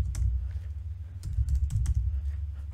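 Rapid, uneven keystrokes tap on a computer keyboard while someone types in the Nano text editor, the clicks close and clear over a low background hum.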